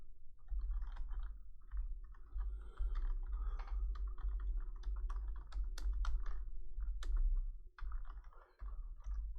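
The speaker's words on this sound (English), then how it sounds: "Let me type it in the chat." Someone types on a computer keyboard in rapid, uneven bursts of close clicks and taps, with a steady low hum underneath and no speech.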